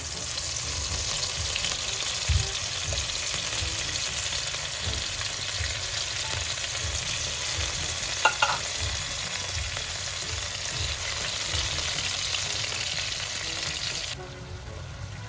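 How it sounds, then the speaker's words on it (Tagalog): Tomatoes and canned tuna sizzle in a hot pan as they are stirred, a loud, continuous close frying hiss with soft scraping stir strokes underneath and one brief clink, and no talking. "Haluin lang po natin hanggang sa maluto po yung kamatis"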